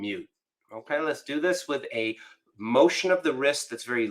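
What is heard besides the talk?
None of the usual background noises is heard.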